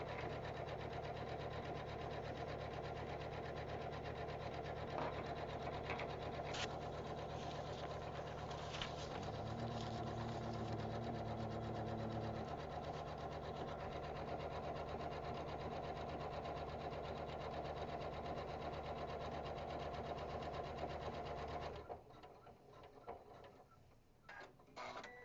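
A Kimberbell embroidery sewing machine stitches a tack-down line on a tooth fairy pillow, humming and clattering steadily for about twenty seconds before it slows and stops, leaving a faint, quieter tail.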